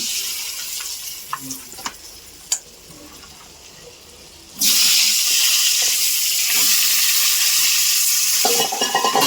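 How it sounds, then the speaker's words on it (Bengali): Quiet stirring and small clinks at first, then a loud, steady sizzle of pointed gourd frying in hot oil with turmeric and salt takes over and continues to the end. "পটলটা ভাজার জন্য একটু তেল দেবো তেলটা একটু গরম হোক"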